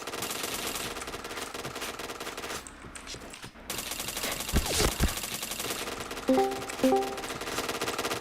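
Gunfire in a shooter video game: dense machine-gun bursts and single shots run almost continuously, with a short lull and a few sharp, loud reports near the end, no voices heard.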